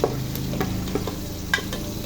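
Garlic sautéing in butter in a pan, a steady close sizzle with light stirring scrapes and a few clinks throughout.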